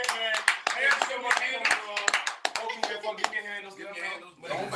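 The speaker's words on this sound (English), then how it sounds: "Let's get a hand clap to Hailey Schmidt, man." An audience claps together for about five seconds, with dense bursts of applause that dip briefly before swelling again, while people talk over it.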